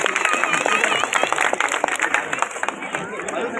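A crowd claps warmly to welcome guests at a political speech gathering in Nehru Nagar, Andheri West: dense, continuous applause mixed with crowd babble throughout.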